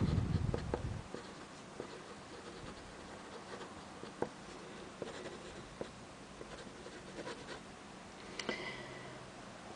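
Hero 616 fountain pen nib scratching across paper, with soft irregular strokes and small ticks and taps at close range, quiet overall with no talking.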